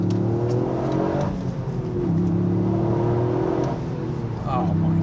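A Toyota GR Yaris accelerates hard on a twisty B road, its engine note rising through revs and dipping at shifts. The drone is steady and close, heard from inside the car.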